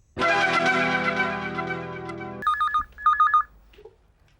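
After a sustained musical chord cuts off, a phone rings for an incoming call with two short electronic trilling bursts, close and clear.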